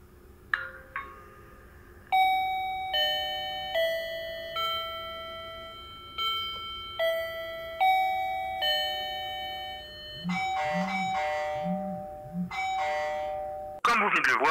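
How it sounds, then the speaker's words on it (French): A DiOBELL B02 wireless connected doorbell rings when its button is pressed, playing a series of clear, repeating melodic chime tones in sequence, loud and close, with a brief harsher noise at the very end. "lorsqu'on appuie sur la sonnette, celle-ci émet un son et clignote en rouge avant de passer en bleu fixe"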